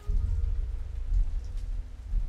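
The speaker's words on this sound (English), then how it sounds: "It's still raining." Rain pouring in a movie scene, a steady dense hiss of rainfall with a low rumbling undertone, continuous and without speech.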